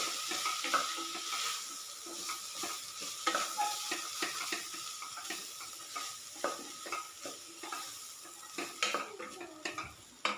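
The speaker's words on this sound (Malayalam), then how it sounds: "ദെൻ 2 ടീസ്പൂൺ അളവിൽ മല്ലിപ്പൊടി, നല്ലപോലെ ഒന്ന് ഇളക്കുക" A spoon stirs coriander powder through a frying pan while cooking a Kerala-style curry, scraping steadily with a soft sizzle underneath and frequent small clinks of metal on the pan, close and continuous with no talk.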